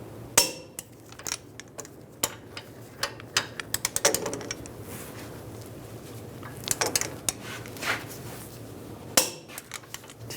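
Torque wrench tightening control arm bolts on a Ram 1500 pickup, giving scattered metallic clicks and clanks with a quick run of ratcheting taps in the middle, close and fairly quiet against a low hum.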